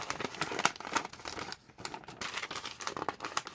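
Coffee-dyed paper is crinkled and crumpled up close, giving dense, crisp crackling and crunching in quick irregular bursts with a brief lull midway.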